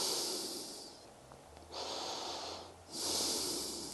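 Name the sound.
breathing during held lunge exercise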